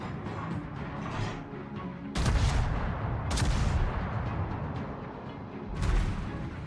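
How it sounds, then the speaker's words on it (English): Warship guns on the Kongo firing a volley in a naval video game: heavy booming blasts near 2 and 3.3 seconds and again near 6, each with a rumbling tail over steady engine and sea ambience. "Try some volley fire"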